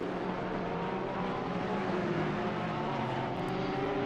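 A GT race car engine in Assetto Corsa Competizione at Kyalami drones at a steady high pitch as the car comes round the final corner, continuous and moderately loud.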